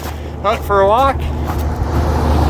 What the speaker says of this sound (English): Oh, here comes the car.